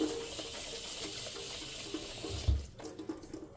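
Tap water runs steadily into a bowl to rinse rice for onigiri, a constant close splashing stream that shifts and gurgles near the end as the flow changes.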